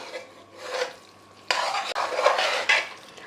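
A spoon stirs sambar rice in a pot, giving close, wet scraping and mixing sounds in several strokes, with one sharper scrape partway through.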